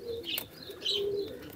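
Caged pigeons with newly hatched chicks give soft, low cooing calls, a couple of drawn-out coos close by, with faint chirps and light rustling around them.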